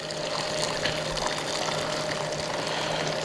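Cooking liquid is poured off boiled head cheese meat in a steady, close splashing stream, alone with no talk.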